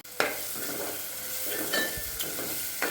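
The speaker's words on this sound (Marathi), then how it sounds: "आता पास्ता मसाला पण जरासा आपण तेलावर फ्राय करूया." Pasta masala being fried and stirred in hot oil for a quick spicy pasta: steady sizzling with scraping spoon strokes against the pan, close and continuous with no voices.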